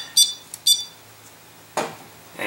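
A timer on a wet tumbler for cleaning brass cases being set for two hours, two short high beeps, then a broader click or tap.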